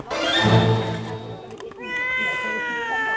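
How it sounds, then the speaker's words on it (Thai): A cat meows twice at close range, a drawn-out whining cry followed by a second higher call, heard indoors during a meal of steamed tilapia with lime, with no voice over the calls. "เอฟเฟกเสียงแมว"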